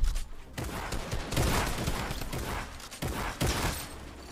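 Shotgun blasts in Fortnite, several loud sharp shots at uneven intervals amid dense gunfire and battle noise, no talking.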